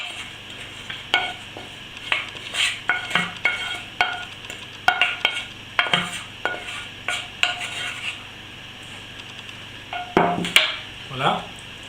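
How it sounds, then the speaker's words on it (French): Thick potimarron gratin mixture with cream, lardons and onions being stirred in a pan, a run of repeated scraping and clinking strokes of a utensil against the pan at close range, some with a faint sizzle, without speech. "Et je mélange à nouveau."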